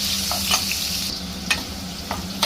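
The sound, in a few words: pineapple pieces frying in ghee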